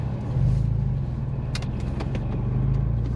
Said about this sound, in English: it's a diesel T5 in the background